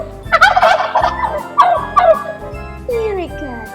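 Loud, near turkey gobbles come in several quick rattling bursts, backed by a soft tinkling jingle throughout, with no speech.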